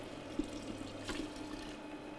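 Water poured into a Kenwood Cooking Chef soup pot, a soft, steady liquid pour with a brief splashy surge partway through, heard close and alone.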